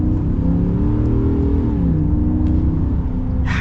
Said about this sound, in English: let's get an acceleration here.